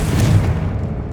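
A Confringo blasting spell in Hogwarts Legacy goes off as a loud, booming explosion that fills the first half-second, then fades into a dull rumbling tail.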